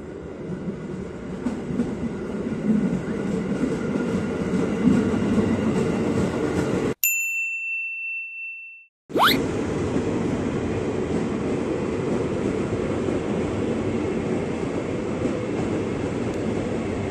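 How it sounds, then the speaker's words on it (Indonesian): A JR 205 series commuter train rumbles and clatters through Depok station in steady, loud wheel and carriage noise. The sound drops out briefly and sharp squeals and a whistle-like tone break through before the rumble resumes. "JRS 205 series komuterin tujuan Depok, cuma sampai Depok pulang."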